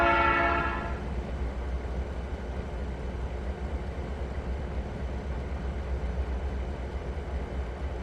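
A locomotive in the Trainz 2022 railroad simulator gives a short horn blast, then settles into a steady, loud mechanical rumble as the train begins pulling away, with no voices.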